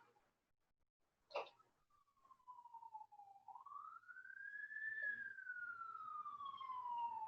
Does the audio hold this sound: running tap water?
no